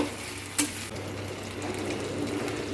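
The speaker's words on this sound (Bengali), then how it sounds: "এবার পেঁয়াজটা একটু ভেজে নিচ্ছি, হালকা করে পেঁয়াজটা একটু লাল লাল করে ভেজে নেব" Onion frying lightly in oil, after a dried red chilli, for an egg curry: a steady soft sizzle with a brief clatter of stirring, close and alone with no talk.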